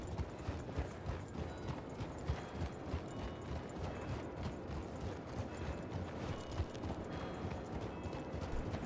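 A horse's hooves clip-clop in the Red Dead video game, a steady, continuous trotting rhythm heard close and even, with little else over it.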